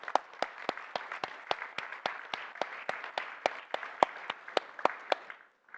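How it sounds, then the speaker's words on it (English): Applause at an education debate event, sounding like a small group or few people clapping in a clear steady rhythm, crisp distinct claps close to the microphone that stop abruptly near the end. "all of you really deserve a big round of applause"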